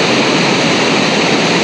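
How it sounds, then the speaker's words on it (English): The big Tuolumne River rushes and roars as loud, steady broadband water noise, close and continuous, with no voices over it. "here we are on the great, the majestic, the wonderful, grand Tuolumne River"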